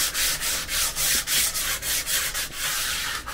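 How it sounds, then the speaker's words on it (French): An angle sander grinding steadily at close range, a continuous broadband rasp with brief rhythmic dips as the tool is worked back and forth, with no voices over it. "Prends ça, là, une ponceuse à angle."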